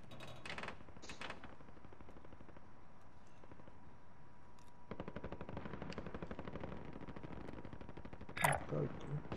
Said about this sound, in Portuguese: Tá vendo esse tiro?